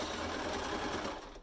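A sewing machine back stitching a nursing hat runs in a continuous loud, fast whirring buzz close to the microphone, slowing slightly at the very end.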